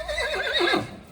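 A horse gives a loud, close whinny at feeding time, a single wavering neigh that trembles up and down before dropping away.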